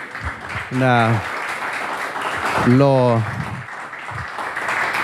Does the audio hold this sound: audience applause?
yes